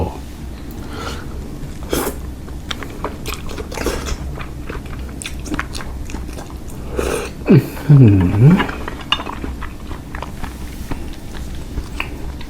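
Someone eats spicy salmon tam sua with rice noodles up close, with steady wet chewing and crunchy bites throughout, plus a brief louder vocal murmur partway.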